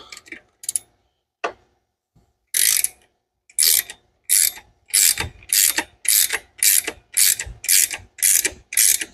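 A ratchet wrench clicks in rapid, evenly spaced bursts while installing a power steering pump on a Mustang, loud and close, with a few isolated taps before the steady ratcheting strokes.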